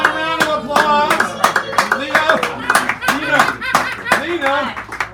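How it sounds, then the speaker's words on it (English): Clapping at a San Francisco café poetry hour, sharp hand claps mixed with chatter, laughter and voices over the top, near and lively. "Come on, a round of applause."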